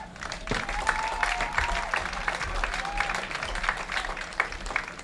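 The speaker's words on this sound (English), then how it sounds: "Let's give them all a round of applause." An outdoor crowd at a Newport Gulls summer-league baseball game claps steadily for several seconds, with a few whistle-like tones rising over the applause.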